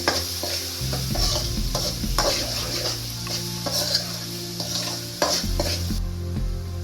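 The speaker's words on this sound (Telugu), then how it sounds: "1 స్పూన్ పసుపు, అల్లం పచ్చి వాసన పోయేంత వరకు వేయించుకోవాలి." Turmeric and ginger paste sizzle and fry in a pan for chicken gravy, with steady frying crackle and repeated spoon-scraping stirs, close and fairly loud, no voices.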